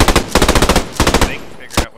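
Automatic machine gun fire in the WWII shooter Post Scriptum, several rapid bursts of shots close by, separated by short pauses, with a final brief burst at the end.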